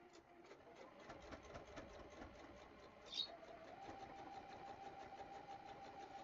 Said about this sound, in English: So I'm just stitching in the ditch.